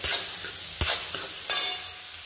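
Onions fry loudly in a pan for aloo bhuna masala under a constant sizzle, broken by about four distinct scraping stirs at an uneven pace.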